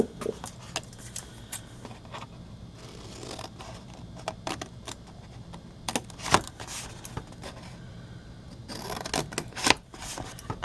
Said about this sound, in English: you're going to want to cut on all of these score lines right up to this score line.